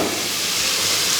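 Chopped onion and garlic sizzling in hot oil in a pan for chicken adobo, a steady, loud, close hiss with no pauses or talk.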